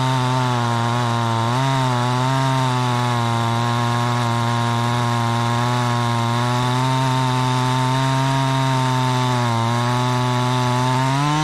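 A Husqvarna chainsaw with a dulling chain mills lumber from a log, running as a loud, steady, close drone with slight pitch wavers throughout, alone with no talk.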